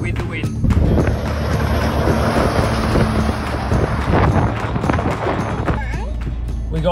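Strong wind buffets the microphone outdoors in a steady, loud, rumbling roar that runs the full length with no letup, and no one speaks.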